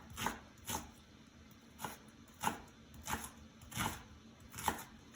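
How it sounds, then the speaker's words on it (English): Knife roughly chopping an onion on a board while making spring pea soup, with seven or eight sharp, evenly spaced chops close up in a steady rhythm and no talk. "So a rough chop to the onion."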